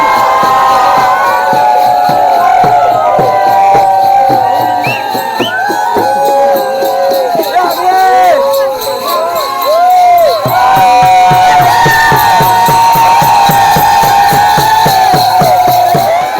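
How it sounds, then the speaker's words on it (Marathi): A village crowd cheers and shouts loudly and continuously during the Konkan Shimga festival as Sankasur dancers perform, with steady rhythmic drumming beating underneath throughout. "हा जल्लोष पाहायला मिळतो आपल्याला संकासुरांचा"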